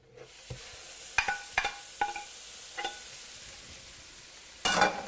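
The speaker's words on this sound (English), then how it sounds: "Got the skillet going here, and I'm going to add that lean ground beef." Lean ground beef in a hot skillet, with faint sizzling under a series of sharp spatula taps and scrapes at irregular intervals, and a louder burst of sizzle near the end.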